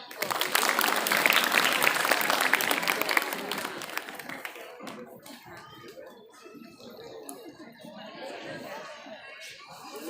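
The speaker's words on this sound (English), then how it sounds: "Please everyone clap." Audience applause at a Republic Day gathering, loud and dense for about four seconds, then fading into scattered claps and crowd murmur.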